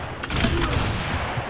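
Rapid gunfire from the online shooter Combat Arms, a dense burst of overlapping shots with low thumps filling the whole moment at steady loudness, no speech over it.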